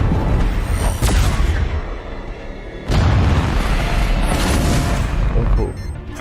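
Railgun fire aboard a spaceship in The Expanse, heavy booming blasts landing near 1 s and 3 s over a dense, loud sci-fi battle mix, with voices under it.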